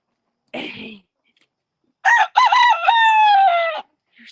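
A pet rooster crows once loudly and close, a strained multi-part cock-a-doodle-doo lasting under two seconds, preceded by a short rough squawk, in otherwise quiet surroundings.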